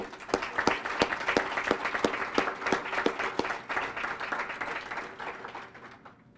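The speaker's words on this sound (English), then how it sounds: "deserve a round of applause" Audience applause at a Royal Oak State of the City address, with sharp individual claps standing out over a steady wash of clapping that fades toward the end.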